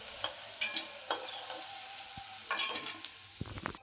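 Green banana and egg kofta fritters sizzle in hot oil, under a constant crackling hiss broken by several scraping stirs and clinks of a utensil against the pan.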